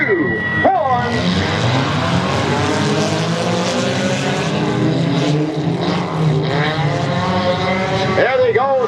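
Demolition derby cars roar off the start and race into turn one at a Ludington, Michigan derby, engines revving loud and continuous with rising and falling pitch for the whole stretch.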